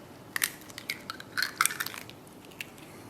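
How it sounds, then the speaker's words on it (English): An egg cracked into a milk and yeast dough mixture for Lithuanian meat pies: a few sharp, close crackling snaps and crunches, with a short cluster in the middle and a last faint tap, heard alone without talking. "I'm going to crack in my egg."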